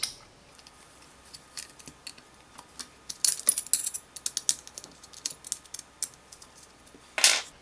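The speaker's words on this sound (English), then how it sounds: "with the Allen key you can loosen these 2 screws" An Allen key working two screws loose on the base of a Parkside PSTD 800 E4 jigsaw gives a close series of small, sharp metallic clicks and scrapes in uneven bursts, with no talking.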